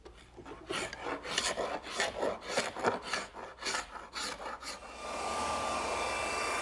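Sanding a glued wooden tabletop by hand makes a steady back-and-forth rasp in quick, rhythmic strokes, close and moderately quiet, followed by a soft continuous hiss at the end.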